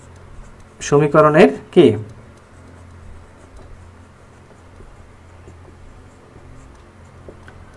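During a maths lesson on polynomial equations, a teacher speaks briefly, then faint scratchy strokes and light taps of writing on a board continue quietly for several seconds.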